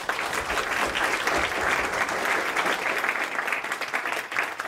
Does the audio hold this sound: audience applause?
yes